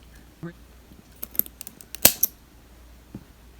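Scissors snipping an echeveria succulent, a handful of quick, close clicks and cuts clustered together over a quiet background.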